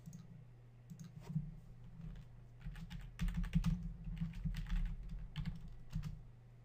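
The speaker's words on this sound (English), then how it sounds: "For now, let's type in hello world into the properties panel." A computer keyboard clicks in bursts of quick keystrokes as a short phrase is typed, close and fairly quiet over a low electrical hum, with brief pauses between groups of keys.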